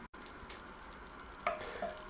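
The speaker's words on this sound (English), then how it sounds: "I sped up the melting of the butter by pushing it around a bit." Butter melts in a hot pan as a utensil pushes it around, a soft steady sizzle with a couple of light scraping clicks, close and fairly quiet.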